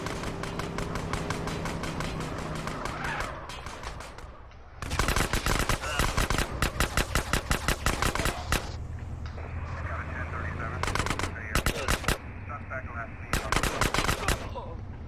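Rapid submachine gun bursts in GTA San Andreas, loud and close, repeating in long rattling volleys separated by brief pauses, with engine rumble and game sounds underneath.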